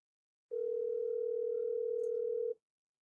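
One burst of a telephone ringing tone sounds while an outgoing call to a real estate agent connects, a clean steady electronic tone lasting about two seconds on its own, followed by silence.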